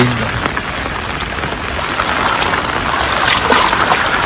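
Heavy rain pours down steadily outdoors during a rainy Navratri-time outing, a loud, dense hiss of drops on surfaces that builds slightly, with no talk over it.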